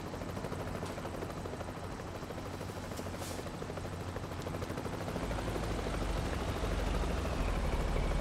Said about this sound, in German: Über uns ist ein Helikopter.